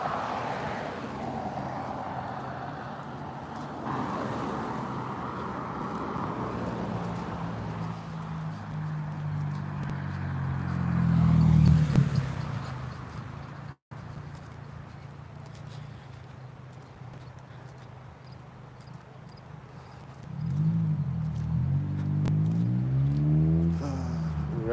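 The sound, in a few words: loud car driving through an intersection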